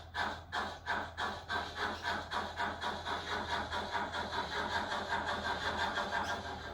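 A DCC sound decoder in a model steam locomotive runs at slow speed, giving a quiet, steady chuffing rhythm over a low hum, with regularly spaced puffs throughout.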